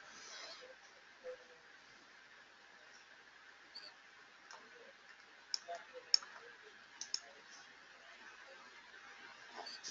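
Several quiet computer mouse clicks sound over a faint background hum, some single and some in quick pairs, spaced irregularly.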